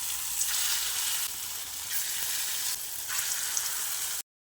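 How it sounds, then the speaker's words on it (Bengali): Lentil fritters (dal bora) frying in hot oil, a steady close bright sizzle with slight surges in intensity, no voices, ending abruptly. "একইভাবে বাকি বড়াগুলোকেও ভেজে নিচ্ছি।"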